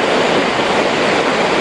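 River water on the Nabas river, a steady, loud broadband rush of flowing water with no pauses and no voices, close to the microphone.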